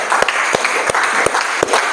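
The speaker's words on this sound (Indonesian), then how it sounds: "Beri tepuk tangan sekali lagi untuk kelompok 2." Classroom applause for a student presenting group, loud and close, with several distinct sharp claps punctuating a continuous patter of many hands.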